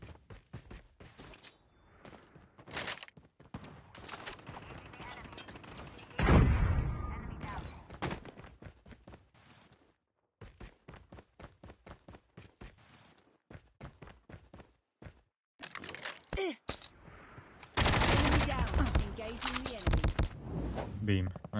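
Bursts of video game gunfire, some sharp and loud, scattered across the clip with footsteps and movement sounds between them.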